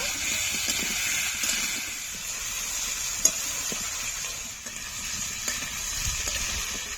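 Spices sautéing in a pan for a thin fish curry, a continuous bright sizzle with occasional stirring scrapes and one sharp clink, close and steady throughout.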